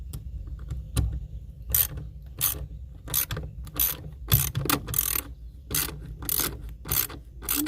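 A ratchet tightens a 5/16 bolt during an RV door repair, giving a run of sharp clicking strokes in an irregular rhythm, close and clear with no talk.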